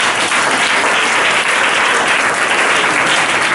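A church congregation at a Pentecost service breaks into steady, dense applause that fills the space evenly from start to finish, with no voices rising above the clapping.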